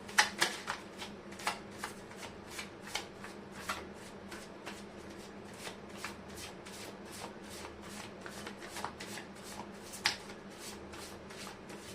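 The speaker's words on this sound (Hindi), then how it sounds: "मैं कर लेती हूँ कार्ड की शफलिंग।" A deck of tarot cards is shuffled by hand close up and quietly, giving a rapid run of soft riffling flaps and light taps, with a few sharper snaps near the start.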